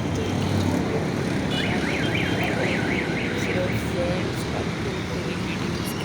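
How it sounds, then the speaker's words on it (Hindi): Dense street traffic rumbles below a high vantage point in Karachi, Pakistan, a loud continuous roar of engines with a warbling siren-like alarm rising through it; a person talks over the noise. "नीचे ट्रैफिक का सिलसिला रवां दवा है"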